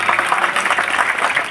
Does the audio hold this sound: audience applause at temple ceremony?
yes